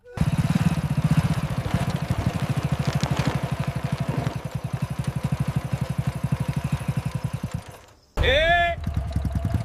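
A motorcycle engine idles and runs close by with a steady rapid putter that slowly fades, breaks off briefly, then resumes while someone speaks over it.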